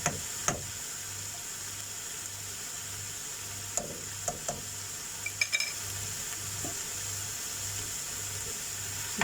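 Ginger garlic paste sizzles steadily in a hot pan for prawn masala, a soft continuous hiss with occasional light clicks of a stirring spoon against the pan, close and fairly quiet.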